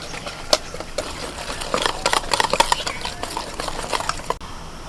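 A spoon mixes idli batter in a bowl, making wet, irregular scraping and clinking strokes at close range that grow busier partway through, with no voices.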